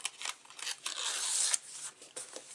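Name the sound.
peeling the backing off adhesive paper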